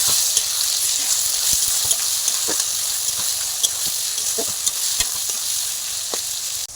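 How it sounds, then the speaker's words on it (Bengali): Ivy gourd sizzles steadily in a pan with chopped tomato, a continuous close hiss broken by scattered clicks and scrapes of stirring, with no one speaking. "কুদরিটাকে বেশ কিছুক্ষণ ভেজে নিয়ে তারপর দিয়ে দিতে হবে কুচানো টমেটো"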